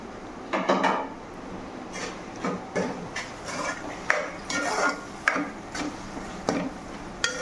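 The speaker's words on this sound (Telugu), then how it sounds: "ఇది కలుపుతూ ఉండాలండి." A spoon scrapes and clacks against a pan while masala curry with cashews is stirred, a run of irregular close scraping strokes and light knocks at moderate volume, no voices.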